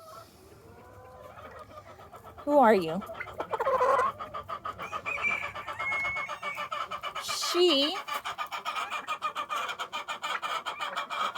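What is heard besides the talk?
naked neck chicken clucking in a coop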